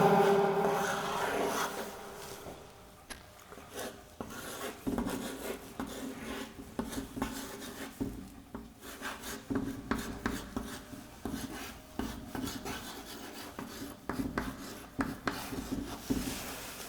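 Marker or chalk scratches and rubs across a board in irregular strokes, close and moderately loud, a continuous run of rasping scrapes and taps with no talking.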